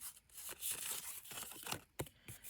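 Paper being trimmed on a small upcycled tea box flipbook, faint close rustles and short scraping cuts in a quiet room, with a few sharper snips.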